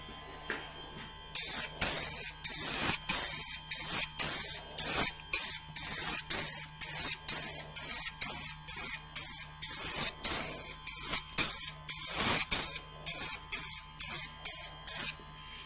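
Spray paint is applied to the door of a 1976 BMW 2002 in many short bursts, each a loud, close hiss lasting about a second, repeated in a fairly regular rhythm with brief gaps between them.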